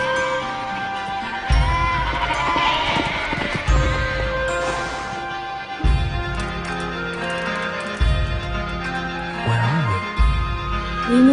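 Goats bleat at a nomadic grazing camp in a cartoon, several moderately loud calls repeating every couple of seconds over a music bed.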